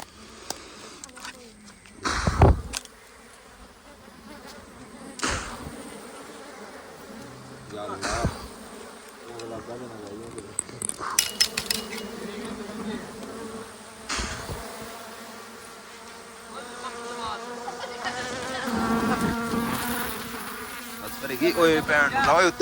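A swarm of bees buzzes constantly around people handling a hive, a dense insect drone that swells and fades, with loud thumps and knocks and people talking over it.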